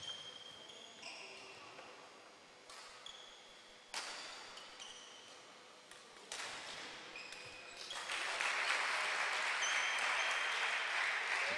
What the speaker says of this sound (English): Montfort coach Han Tung applauding Aloysius's effort there.